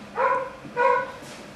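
A dog gives two short, tonal barks about half a second apart, fairly close and clear over a quiet background.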